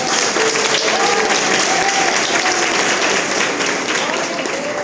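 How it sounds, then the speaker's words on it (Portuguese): A church congregation claps steadily and loudly throughout, with scattered voices calling out over the applause. "Vamos aplaudir ao Senhor Jesus."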